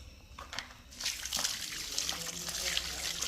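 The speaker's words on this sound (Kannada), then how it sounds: "ಇಷ್ಟು ನೀರು ಹಾಕಿ" Water is poured onto freshly pressed potting soil in a plant pot as a layer of a planting, trickling and sloshing steadily for a few seconds at close range.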